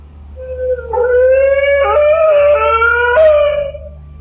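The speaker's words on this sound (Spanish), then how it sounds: "Acompañado después de unos aullidos de perro" A dog howls in one long mournful wavering cry lasting several seconds, its pitch rising and dipping with clear harmonics, fairly loud and alone over a low steady background hum.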